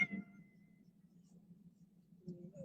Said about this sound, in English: if you may hear some background noise, that is Mochi, the cat that I adopted